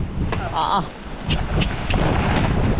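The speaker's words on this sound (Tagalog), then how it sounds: "walang kasamang ulan na malakas, hangin lang" Steady gusting wind from a typhoon, without heavy rain, roars across the microphone in broadband rumble, with a few brief clicks and faint voices in the background.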